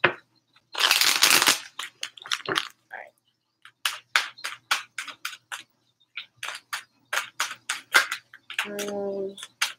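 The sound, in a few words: shuffling tarot cards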